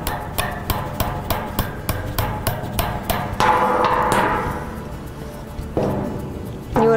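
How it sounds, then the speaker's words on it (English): Hammer tapping a metal dowel into a wooden cabinet panel during furniture assembly: a quick run of about a dozen sharp, evenly spaced close knocks, then a pause and a couple of scattered final taps, no talking. "Using your hammer, you just want to slightly hit that in."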